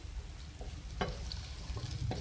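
Green chillies frying in oil with onions in a pan, a soft steady sizzle with faint stirring scrapes and a few small clinks, quiet and close, with no talking.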